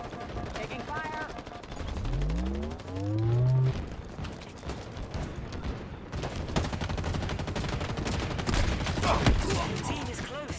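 Gunfire in the Halo video game: rapid automatic bursts and scattered shots crackling through a busy game mix, with a low sweeping rumble and distorted tonal effects partway through.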